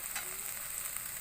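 Spices sizzle in hot oil as they are stirred into frying soya chunk masala made with chilli, coriander, pepper and garam masala powders; a steady, soft crackle with no voices.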